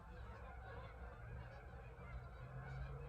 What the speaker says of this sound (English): There's those birds again. So many birds.